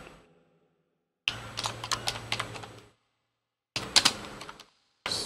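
Bursts of rapid keystrokes on a computer keyboard, close and crisp, in two short runs separated by silence, with a single keypress at the end.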